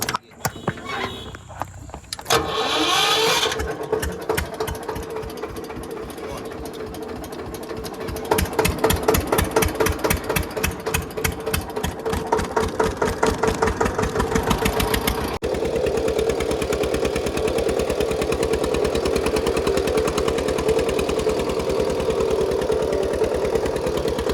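A tractor engine runs steadily while hauling a loaded trolley on a farm, a loud continuous rumbling drone with a rhythmic chugging pulse that holds throughout, shifting slightly in tone partway through.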